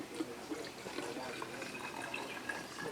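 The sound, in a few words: water poured into a jar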